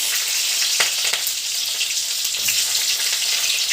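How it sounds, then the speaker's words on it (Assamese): Onions sizzle steadily in hot oil in a pan where garlic has already been browned, a dense crackling hiss with a few sharper pops, close and continuous throughout. "আৰু পিঁয়াজখিনি অলপ ভাজি ল'ম।"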